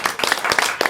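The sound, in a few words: applause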